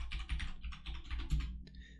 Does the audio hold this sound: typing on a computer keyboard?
yes